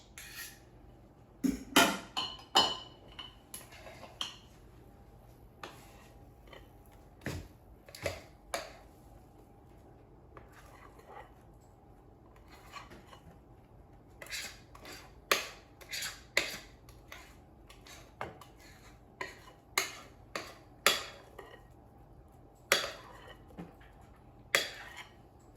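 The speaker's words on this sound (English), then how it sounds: "let me transfer it to a greased baking dish" Pumpkin dump cake batter is scraped and transferred into a greased baking dish, with scattered clinks and taps of a utensil against the dish at an uneven pace, quiet and close with no voices.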